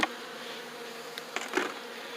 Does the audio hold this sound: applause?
no